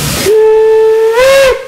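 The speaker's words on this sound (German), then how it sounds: "Gleich kommt nochmal ein richtig lauter Pfiff." Steam whistle of a BR 01 express steam locomotive leaving a station, one long, very loud sustained blast with a pitch lift near the end and hissing steam before and after.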